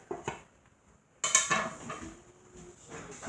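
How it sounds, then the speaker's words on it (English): Spoon clanks and scrapes against a cooking pot while Sierra Leone–style spinach stew with onions is mixed, a few sharp metallic knocks followed by softer scraping and stirring, close and alone. "Mix my spinach, mix them together"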